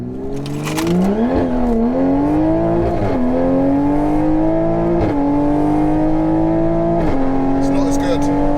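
A Stage 3 Toyota Supra making 760 hp launches down a drag strip, its engine climbing loud and close through a rising whine with brief dips at each gear change, heard from inside the car with no talking.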